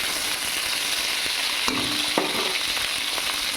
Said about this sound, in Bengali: উচ্ছেটা একটু ভাজা ভাজা ভেজে নেব